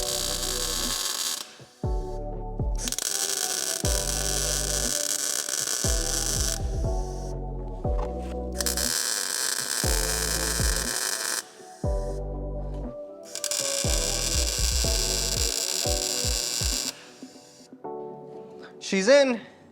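Tack welding steel V8 motor mounts on a 1965 Mustang produces several bursts of harsh crackling arc buzz, each lasting a few seconds, separated by pauses with other tonal sounds in the background.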